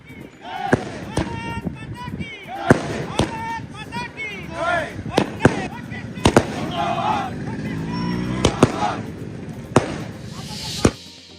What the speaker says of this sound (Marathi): नागरिकांनी फटाके फोडत ढोल ताशा वाजवत केला आनंदोत्सव साजरा